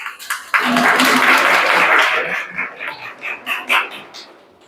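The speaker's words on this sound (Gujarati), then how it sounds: "આપણે સૌ તેમનું તાળીઓથી સ્વાગત કરશું" An audience at a community gathering claps to welcome a family. A loud burst of applause rises sharply, holds for a couple of seconds, then breaks into scattered, fading claps.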